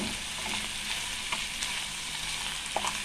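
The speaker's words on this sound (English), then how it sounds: "now that we've added in all our seasonings, we're just going to give it a little stir" Seasoned Jamaican ackee and saltfish stirred in a frying pan: a steady, close sizzle with a few light utensil clicks and scrapes scattered through, no voices.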